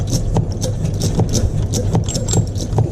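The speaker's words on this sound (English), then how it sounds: "we use this lever here, and we pump and pump and pump and pump and pump" A hand lever pump pressurises the fuel tank of a 1929 Blower Bentley, rhythmic mechanical strokes repeating quickly over a dense, loud rumbling background.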